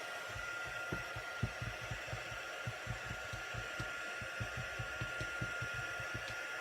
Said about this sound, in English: I'm going to turn on my heat tool again.